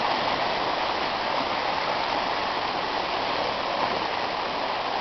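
Floodwater from a normally tiny creek near Prosperity, Pennsylvania rushes in a steady, dense roar that stays constant throughout with no other sounds.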